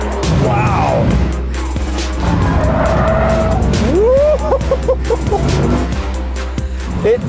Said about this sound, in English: The tires are tested at high speeds on this track